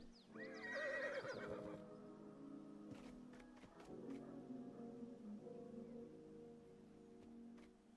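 A horse in the game ARK whinnies loudly and clearly in a long call, followed by softer snorts and hoof clops with a steady low game ambience underneath.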